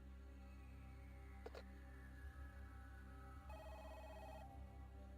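A telephone rings in the Parasite Eve video game, a faint electronic trill that pulses briefly over a quiet, steady background hum.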